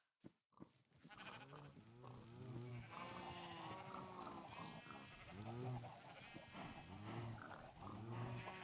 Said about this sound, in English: Come along, Mr. White Sheep.